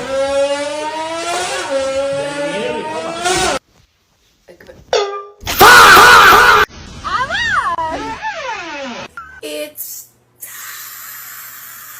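A human voice imitating a car engine, with rising and falling revving tones, sputters and bursts broken by short silences, loud and close to the microphone.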